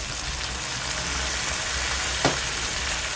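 Pork fries in a pan for dinuguan as vinegar goes in, giving a close, steady, even sizzle with one brief soft stir or splash partway through.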